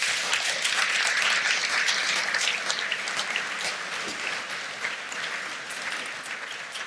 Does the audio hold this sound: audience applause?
yes